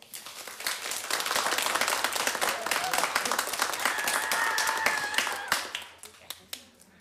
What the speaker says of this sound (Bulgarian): аз ще кажа на публиката да ти ръкопляска